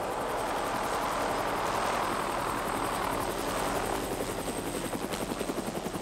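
A helicopter roars steadily at close range, its rotor chop becoming more distinctly pulsing toward the end.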